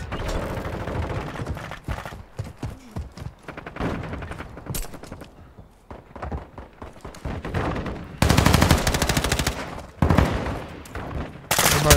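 Bursts of M16 rifle fire in Modern Warfare 2, rapid clustered shots with louder volleys near the end, close and punchy over game ambience.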